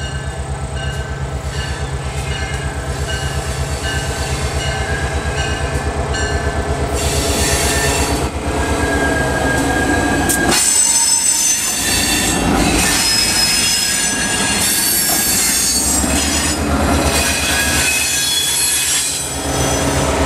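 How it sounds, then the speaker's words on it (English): A train rumbles past close by, loud and steady, with wheels squealing in high screeches partway through and a rattling clatter of cars throughout. "Smallest train ever."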